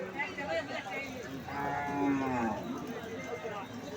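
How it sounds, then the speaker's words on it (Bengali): Cattle moo loudly and repeatedly among the crowded bustle of a Bangladeshi livestock market (haat), with deep, drawn-out calls rising over steady background noise and murmuring voices. "এই জায়গায় গরু আর গরু"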